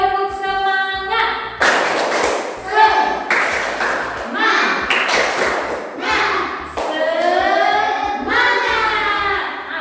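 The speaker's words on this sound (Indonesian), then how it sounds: "Nah, tepuk semangat." A class of students stands and performs the 'tepuk semangat' rhythmic clap, with sharp patterned claps close by and loud, broken up by chanting and voices throughout.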